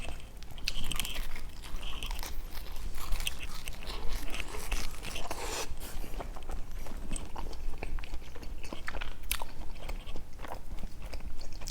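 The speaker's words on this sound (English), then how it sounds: "But the chew of the pepperoni, very nice." Someone chews and bites pepperoni pizza with thick pepperoni slices, producing close, continuous wet mastication with small crunches and smacking sounds.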